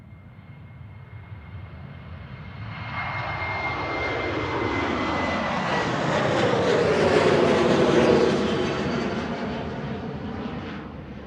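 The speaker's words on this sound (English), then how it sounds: "757 heading out." A Boeing 757 jet departs Manchester Airport, its engine roar swelling from a distant whine to a loud, broad rumble at its peak and then slowly fading, with no voices over it.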